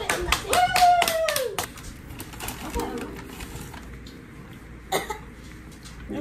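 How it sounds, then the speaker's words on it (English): A person coughs several times in quick succession at close range, followed by quieter sounds and one more short burst later, with some voice around it. "You gotta stop coughing on me."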